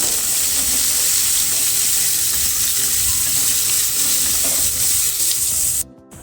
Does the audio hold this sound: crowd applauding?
no